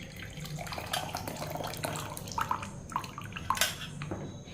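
Boiled water infused with cinnamon, cloves, ginger and mint is poured from a pan into a glass, giving a steady splashing trickle with a few sharp clinks near the end, close and alone.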